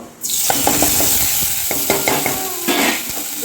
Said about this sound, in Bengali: খানিকক্ষণ আমি নাড়াচাড়া করে নেব। হয়ে গেছে, একটু নাড়াচাড়া করে নিলাম তেলের মধ্যে।